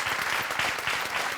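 Studio audience applause at a Burkina Faso TV variety show, a steady dense clapping wash held loud and even throughout without a break.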